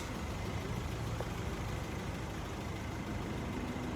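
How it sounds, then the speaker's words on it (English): A big diesel engine in a Valtra tractor from Finland idles steadily, a constant low, even drone with faint hiss and no voices, unchanging throughout. "Got a big diesel engine with the filters there for easy service."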